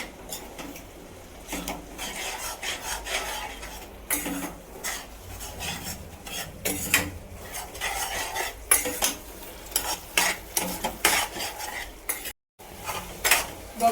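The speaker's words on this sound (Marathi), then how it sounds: "आपण हे सर्व जे टाकलेले आहेत पदार्थ ते सगळे मिक्स करूया व्यवस्थित" Chicken being stirred with yogurt and other ingredients in a pot for dhaba-style chicken tikka biryani, a steady run of scraping, clinking spoon-on-metal and wet squelching strokes, close and continuous with a brief pause near the end.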